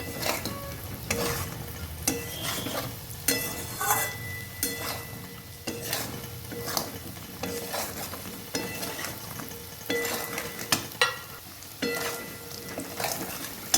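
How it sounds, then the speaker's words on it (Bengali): Lentil fritters being stirred into a spice masala in a frying pan, with repeated scraping strokes over a steady close sizzle and an occasional utensil clink against the pan. "এবার ডালের বড়াগুলো দিয়ে দেব এটাও একটু ভালো করে মিশিয়ে নেব মশলাটা দিয়ে"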